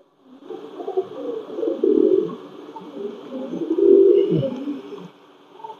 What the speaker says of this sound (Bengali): কবুতরটা একটু ছেড়ে দেখি আপনাদের